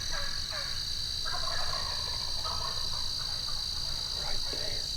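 Osceola wild turkeys gobble from the roost at dawn, with several distant gobbles and clucks in quick, uneven bursts over a hiss of insects and quiet hunters nearby.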